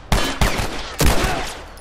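Gunshots in the video game The Last of Us Remastered, three sharp, loud shots in quick succession, each followed by a short ringing decay, with no voices over them.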